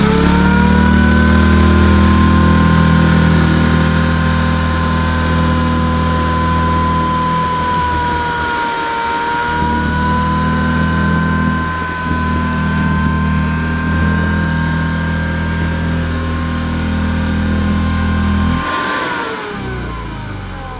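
A vintage Hoover 912A commercial upright vacuum cleaner runs loud and close, a sustained motor whine with steady tonal hum that shifts pitch slightly as it moves, then dips near the end.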